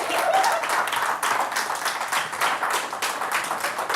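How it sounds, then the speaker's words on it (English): Audience applause fills the room, a dense, even wash of many hands clapping that holds at steady strength throughout, with a brief voice near the start. "Let's give Chair a round of applause."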